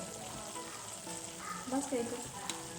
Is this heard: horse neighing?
no